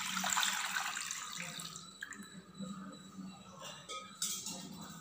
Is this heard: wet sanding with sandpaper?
no